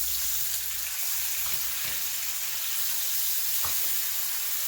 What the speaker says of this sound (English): let this sear in butter for 2 minutes on each side